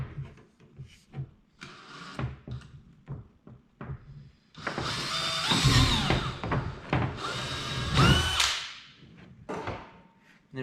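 A drill bores through Hyfax and an Otter sled, a couple of loud, close whirring bursts of a few seconds each, preceded by scattered knocks and handling sounds.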